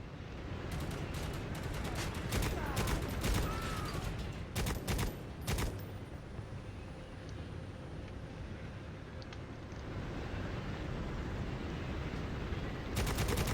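Gunfire from hip-fired shots in the video game Necromunda: Hired Gun, sounding as clusters of sharp, loud bursts early on and near the end over a steady rumbling game ambience.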